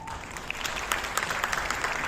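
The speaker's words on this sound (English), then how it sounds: "So please, for me, we could give everybody a round of applause." Theatre audience applauding a Repertory Philippines cast, a dense steady patter of many hands clapping for about two seconds with no voices over it.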